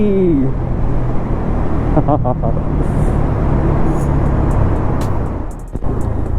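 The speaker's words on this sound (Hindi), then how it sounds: "सामने ट्रैफिक, यार आज के दिन भी ट्रैफिक लगा हुआ है" Dense road traffic on a busy Delhi street, a steady close roar of engines and tyres that fills the whole stretch, with a brief tonal blip partway through and a slight dip near the end.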